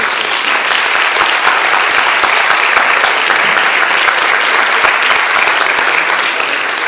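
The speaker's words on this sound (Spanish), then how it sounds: "por favor, un aplauso para él." An audience at a book presentation during a genre literature festival welcomes author Tade Thompson with loud, sustained applause, a thick, unbroken roar of clapping at a steady level.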